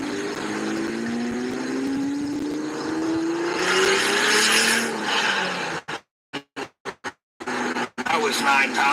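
A minivan with a J35 engine drives and revs on a Saturday outing, a loud engine note rising in pitch over several seconds, then broken into choppy gaps near the end, with voices heard alongside.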